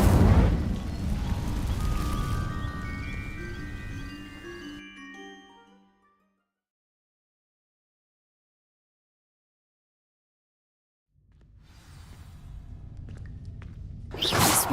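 A fire spell in a video game sets dry vines alight with a loud whooshing blast and a crackling roar that fades into silence. Another rising rush of flame swells near the end.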